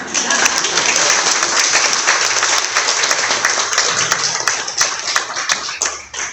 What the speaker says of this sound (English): Clap for her one more time